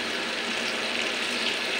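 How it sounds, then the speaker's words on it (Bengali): Water pours steadily into a cooking pot in a short, continuous splashing rush, close and moderately quiet, with no voices. "জল দিয়ে দেব।"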